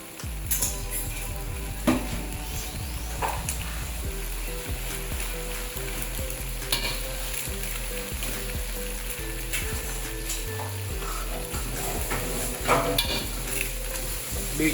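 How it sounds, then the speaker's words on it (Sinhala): Eggs go into a frying pan and are stirred in a steady, continuous sizzle with scraping strokes throughout, close and fairly loud. "ඔන්න ගයිස් දැන් එග්ස් ඇඩ් කරගන්න යන්නේ"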